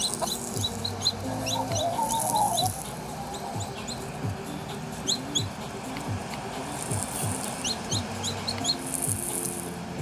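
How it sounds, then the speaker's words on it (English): A baby chicken in the video game Dinkum makes soft, repeated high cheeps and clucks over a steady ambient game background with faint low music. "There's my baby chicken I got yesterday."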